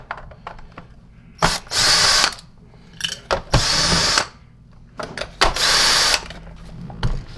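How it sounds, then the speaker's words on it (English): A power screwdriver backs out Phillips number 2 screws from a SEBO ET-H vacuum cleaner powerhead during a repair, in three loud whirring bursts of about a second each, separated by quieter handling clicks. "we're going to start removing the Phillips screwdriver, Phillips number 2 screws"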